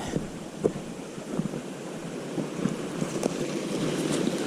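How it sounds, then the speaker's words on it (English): A steady wash of running water from a small stream flowing under a road on a trail, continuous and moderately close, with no talking. "there is the water running underneath this, well, I wouldn't call it a bridge, but the road"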